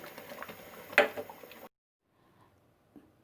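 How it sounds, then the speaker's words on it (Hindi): Cream stirred into simmering dal makhani makes soft wet bubbling and squelching with one sharper splash, then cuts off to near silence with a faint tap at the end. "अब इसे मैं क्रीम डालकर अच्छी तरह मिक्स कर लूँगी"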